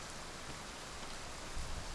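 Heavy rain pouring down in a dense, steady hiss of broadband noise, close and unbroken, with no voices heard.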